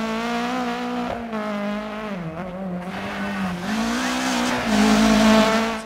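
A Kit-Car rally car in the DiRT 4 racing game roars at high revs, engine pitch rising and dipping through gear changes, with tire scrabble on loose ground, loud and continuous.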